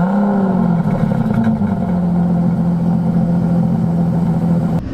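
An Aston Martin DB11 engine running steadily at idle after starting, a loud, continuous low rumble close by with a slight settling drop in pitch early on and a click near the end.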